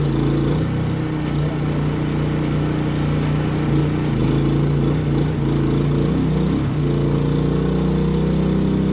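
A PK4200 inverter silent generator drones steadily under welding load, a loud continuous engine hum with a constant low tone and slight shifts in pitch, close by and with no speech over it.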